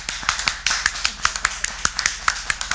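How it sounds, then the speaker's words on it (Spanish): Sparse, sharp claps ring out at an uneven pace during a Mother's Day Mass, a small group clapping without building into full applause. "Otro aplauso para las madres."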